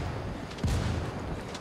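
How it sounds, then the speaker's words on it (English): A single mortar round detonates in Ghost Recon Wildlands, a dull, low thump that lands abruptly and rolls off briefly over steady ambient game noise. "I dropped a mortar on him, so he's gonna move."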